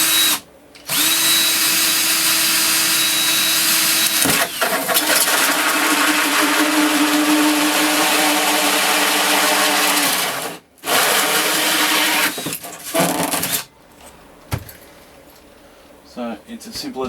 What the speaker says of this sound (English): So we're going to put the hole through the dinette now.